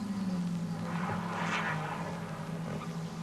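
Touring cars racing at Amaroo, a Holden Commodore leading a production saloon field, with a steady loud engine drone and a swelling passing roar midway over constant background rumble.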